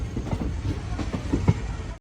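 A train pulls into Tenkasi Junction railway station with a close, continuous rumble and clicking wheel beats over the rails, ending in an abrupt cutoff.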